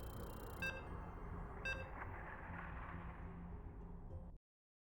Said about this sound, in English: You can hear the beeps. We are loading into our next game.